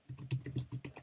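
Quick keystrokes on a computer keyboard while typing in MS Word, about seven crisp close taps in a steady burst, clear and alone.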